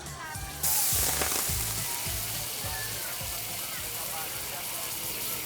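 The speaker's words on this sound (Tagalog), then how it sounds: "yung medyo na blanch natin or nabanlian natin na chicken neck, atin siyang iba-brown" Blanched chicken neck browning in a pan for afritada, with a loud steady sizzle that swells after a short quiet opening, joined by a low rhythmic thumping in the background.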